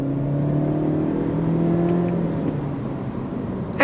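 A 2023 Honda Civic Hatchback pulls away from a traffic light under throttle with paddle shifting, its engine a steady droning hum that rises gradually, heard from inside the cabin, with a brief sharper sound at the very end.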